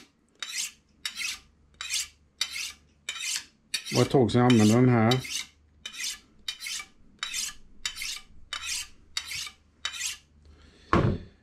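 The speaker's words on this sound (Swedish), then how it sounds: "Vi ska börja med att slipa lite, vässa våra knivar." A kitchen knife blade scrapes along a sharpening steel in regular, evenly spaced strokes, with a brief spoken remark partway through.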